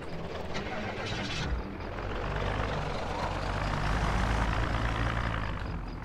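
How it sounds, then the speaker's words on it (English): A car engine left idling in Project Zomboid, a steady low rumble that holds throughout at moderate level with faint background noises and no talking. "Did you leave your car on?"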